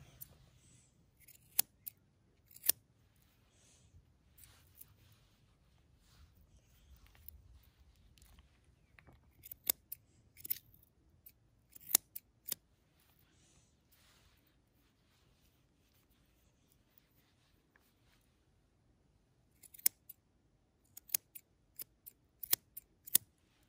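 Scissors snip through a doodle dog's coat during grooming, sharp clicking cuts coming in scattered bursts with quiet gaps between, close and fairly soft over a low background rumble.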